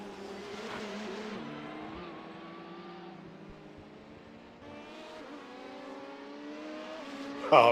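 LMP1 prototype race car in a sim racing game at Sebring, engine revving with rising and falling gear-change pitches as the car speeds by, fairly quiet with a sharper burst at the end.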